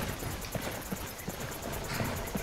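Horse hooves clip-clop in the Skyrim video game, a steady rhythmic series of hoof strikes at moderate volume over a constant background ambience, roughly three beats per second.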